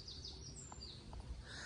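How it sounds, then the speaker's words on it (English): Faint birdsong drifts in from a distance over a low outdoor rumble, with a few soft chirps and calls scattered through a quiet woodland atmosphere. "You can hear the birds singing."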